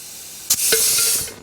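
Compressed air hisses steadily into an air bazooka tank used for seating tires on a 1979 Cadillac DeVille, a loud broadband rush starting abruptly midway with a few faint clanks under it.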